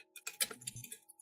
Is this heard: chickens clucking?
no